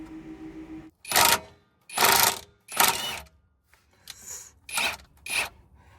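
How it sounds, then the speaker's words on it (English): An impact wrench loosens the rear differential drain plug on a Subaru in a series of short, loud, rattling bursts separated by brief pauses, close up. "so I'm going to use an impact as a last resort"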